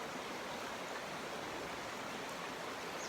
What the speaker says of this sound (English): And I could just listen to that sound forever. You know that sound? Yeah. The river.